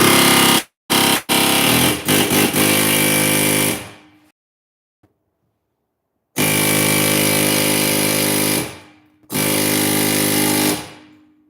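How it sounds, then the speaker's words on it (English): An air hammer rattles against a stuck differential pinion gear in three long, loud bursts, close by, separated by short silences, with a couple of brief taps at the start. "Use an air hammer here and hit right in the center pinion gear."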